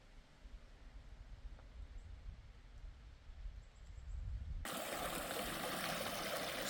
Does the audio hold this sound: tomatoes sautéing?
no